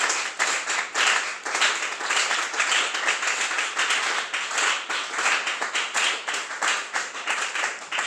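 A church congregation claps and applauds the Lord in a rhythmic, sustained burst of many hands, steady and lively throughout, with a few voices faintly mixed in.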